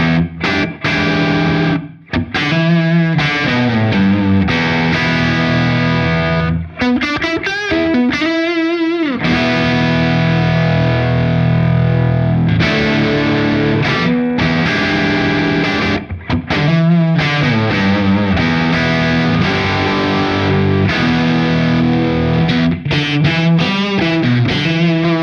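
An electric guitar played on a single-coil pickup through a Soldano SLO Plus overdrive pedal gives low-gain tones with subtle breakup, steady chords and riffs throughout.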